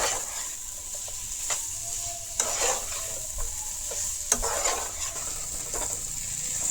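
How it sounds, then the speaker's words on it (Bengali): Jackfruit seeds and spiny gourd are stir-fried in a pan, giving a steady close sizzle with repeated scraping strokes of the spatula, a few sharper knocks standing out. "আর 1 মিনিটের মতো ওরকম কষাই।"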